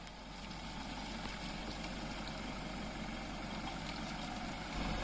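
Engine of a new Land Rover Defender climbing a hill in off-road terrain mode, a steady low rumbling drone held at fairly constant revs with a slight rise near the end, no talk over it.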